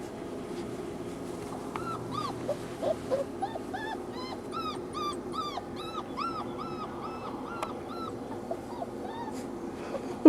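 Four-week-old puppies whimper and yip in a series of short, high, rising cries, several at once, over a steady low background hum.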